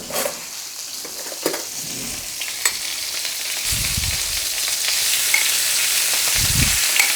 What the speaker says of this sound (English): Okay, to that I'm going to add the caramelized onions.